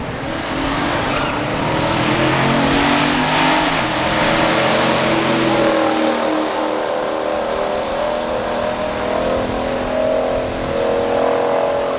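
A 1970 Chevelle LS6 454 drag racing a Plymouth Savoy, with loud engines revving hard and climbing in pitch through gear changes, the roar staying strong before easing into a rougher, lower drone.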